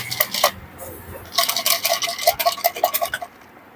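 A closed box of prize-draw slips is shaken by hand, giving brisk papery rattling bursts, a short one early and then a longer run of jostling rustles that stop near the end.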